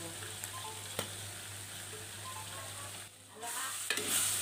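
A coriander and spice paste for Padang rendang stir-fries in a pan, a soft steady sizzle with occasional utensil taps, briefly dropping away before the hiss swells louder at the end.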